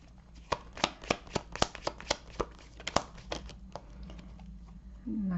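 Tarot cards are shuffled by hand in a quick run of crisp, snapping riffles, about a dozen sharp flicks close up, followed by softer sliding as a card is drawn.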